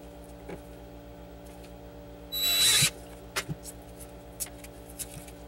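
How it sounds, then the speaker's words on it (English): A drill boring holes through a PVC pipe coil-form wrapped with coax runs in one brief half-second burst, quiet and close, followed by a few small clicks and taps against a low steady hum. "while I drill the holes for the zip tie"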